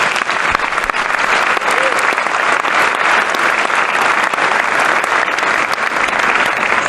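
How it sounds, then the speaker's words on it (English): An event audience gives a big round of applause, dense continuous clapping from many hands, loud and sustained throughout with faint voices mixed in. "Let's give them a big round of applause."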